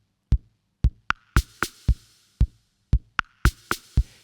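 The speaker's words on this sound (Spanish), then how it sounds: "DR55, que en los packs de Ableton suenan así" A minimalist Boss DR-55 drum machine pattern from Ableton sample packs, with sharp clicky kicks and bright snare and hi-hat hits in a steady, sparse groove, dry and close.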